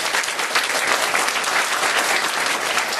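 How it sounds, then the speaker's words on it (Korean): A church congregation at a festival service applauds, a steady, dense wash of many hands clapping continuously at full loudness. "우리 위대한 하나님께 박수를 보내겠습니다"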